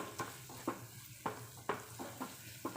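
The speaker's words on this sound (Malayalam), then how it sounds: "തൈര് ഒഴിച്ചിട്ട് ഇത് ഇളക്കാൻ പോവുകയാണ്" A spoon stirs yogurt into fish masala in a pan, making soft, periodic scraping strokes over a low, quiet sizzle with no talking.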